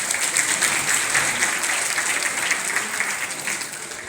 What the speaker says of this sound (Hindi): ताली नहीं हो जाएगी अपने लिए।